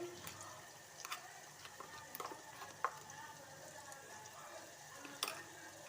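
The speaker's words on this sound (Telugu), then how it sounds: "అది వేసుకొని కొద్దిసేపు వేయించుకోవాలి నూనెలో ఫ్రై అయితే చాలా టేస్ట్గా ఉంటుంది" Spice paste frying in hot oil in a pan, a soft steady sizzle with occasional sharper scrapes and clinks of a spoon stirring, fairly quiet and close, no one talking.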